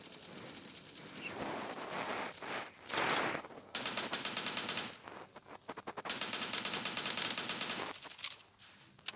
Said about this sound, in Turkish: Şuradan silah sesleri geliyor arkadaşlar.